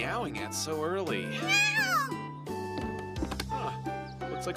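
A cat meows in a high, rising and falling cry within an animated campus scene, the call standing out near and clear over background music and voices.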